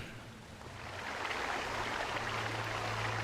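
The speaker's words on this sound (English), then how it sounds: "You hear running water and see a small stream that carves its way into the mountain." A small stream runs into a mountain in the video game Pillars of Eternity, a steady broadband rush of flowing water that swells slightly, with a low hum underneath.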